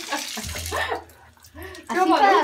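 Water runs from a shower at home, a rushing spray that swells up in the latter part, with people talking close by over it.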